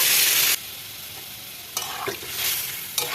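Tomato, bay leaf and whole cumin fry in hot oil in a pan for an egg curry, a loud hiss at first that drops to a steady sizzle, with a few stirring scrapes and crackling bursts near the end.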